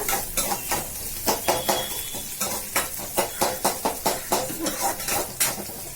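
Food sautéing in a pan until browned: a utensil scrapes and stirs in quick, regular strokes over a constant close sizzle of frying.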